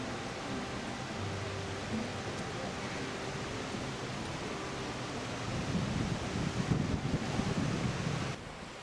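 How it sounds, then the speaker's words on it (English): A swift mountain creek drops several meters over rocks in Montana, giving a steady broadband rush of falling water that grows louder and rougher toward the end. "The swift current falling here several meters into the depth and became a powerful creek."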